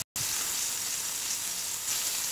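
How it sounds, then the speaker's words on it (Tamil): Steady, close sizzling of vegetables roasting in a little oil in a pan, a continuous crackling hiss after a brief silent start. "ஒரு பேனில் கொஞ்சோண்டு ஆயில் ஊற்றிக்கிட்டு அந்த காய்கறியெல்லாம் வந்து அப்படியே வச்சு ரோஸ்ட் மாதிரி பண்ணி எடுத்துருங்க."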